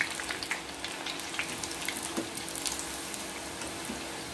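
Christmas snacks frying in hot oil in an Indian home kitchen, a steady close-up sizzle with a continuous bubbling hiss dotted with small pops and crackles, at even volume with no talk over it.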